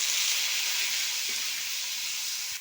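Onions frying in oil with pepper, cloves, cinnamon and bay leaf, a steady close sizzling hiss that eases slightly, with a faint stir or clink near the end.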